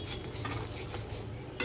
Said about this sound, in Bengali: কাজুটা ওইটা এবার দিয়ে দেবো, দিয়ে একটু নাড়িয়ে নেব